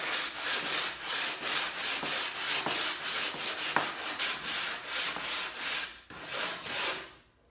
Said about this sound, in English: I'm going to go ahead and square up the edges a little bit with the sanding block